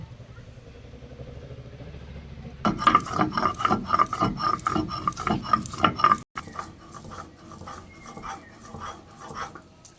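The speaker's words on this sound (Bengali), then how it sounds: "এবার কিছুটা জিরে আর ধনে বেটে নেব।" Cumin and coriander seeds are ground on a grinding stone, a close, rhythmic scraping and rasping that begins after a quiet start, with rapid back-and-forth strokes, a brief pause, then continued grinding.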